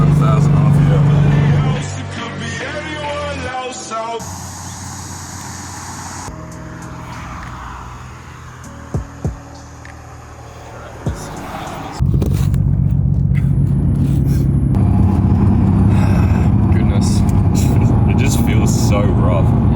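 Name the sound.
Nissan R33 Skyline GTST engine while driving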